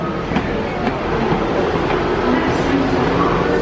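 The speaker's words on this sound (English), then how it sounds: "There's a train here already." A train waits at a UK station, rumbling nearby with a steady low roar and faint rhythmic clacks, a constant mechanical drone filling the space.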